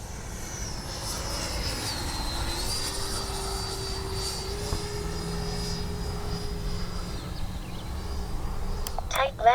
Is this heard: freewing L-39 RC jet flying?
yes